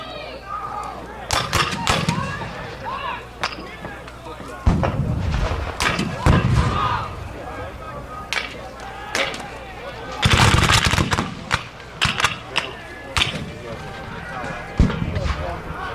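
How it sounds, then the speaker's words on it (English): A Gettysburg battle reenactment fills the air with repeated volleys of musket fire, loud crackling bursts and thuds in irregular clusters over a noisy field, while people talk between shots. "Another line fire from General Longstreet's men"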